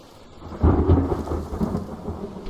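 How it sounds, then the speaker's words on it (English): A thunderstorm in a forest brings a loud, deep rumble of thunder that swells and rolls over steady rain, with no voices. "now it's starting to thunderstorm."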